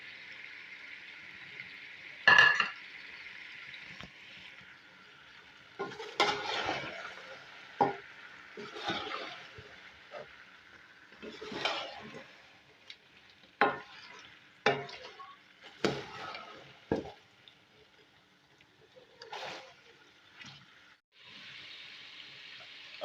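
Beef karahi stirred in a pan after green chillies go in, heard as a quiet background sizzle broken by irregular scraping and clattering stirs that come and go.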